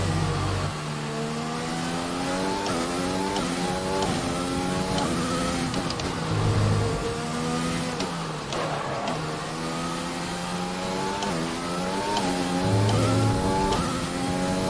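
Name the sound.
Formula 1 car driving in F1 2020 video game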